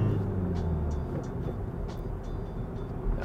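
A car's engine pulling in third gear during a driving lesson, a steady low drone with road rumble that stays close and even the whole time, no voices over it.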